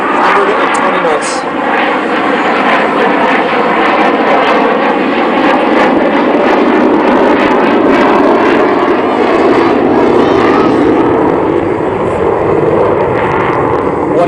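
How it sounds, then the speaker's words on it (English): RAAF F/A-18 Hornet jet at maximum afterburner during a display at Temora Aviation Museum, a loud, steady broadband roar that holds throughout, with a voice commenting over it. "now gone maximum afterburner, and he's gently pulling the nose up, accelerating, demonstrating awesome thrust"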